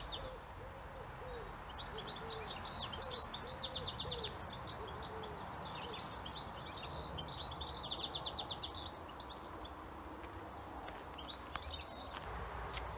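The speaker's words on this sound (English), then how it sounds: "the site seems to be inundated with goldfinches right now" A busy chorus of goldfinches fills an outdoor wildlife site with high, twittering song phrases repeating in bursts, with a steady low ambient background and softer cooing calls beneath.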